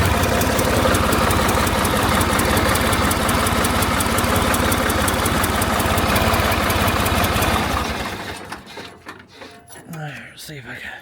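A tractor engine idles close by with a loud, rapid, even chugging for about eight seconds, then shuts off, leaving quiet rustling and someone speaking.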